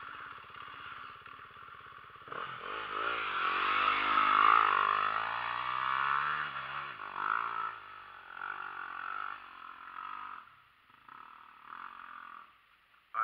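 A motorcycle engine revs in a rising and falling drone, swelling loud around the middle and then easing off, with the throttle not pushed very high and no talk over it.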